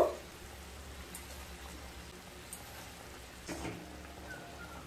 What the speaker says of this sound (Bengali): আবারও 1 মিনিট খুব ভালো মতো ফুটিয়ে নেব।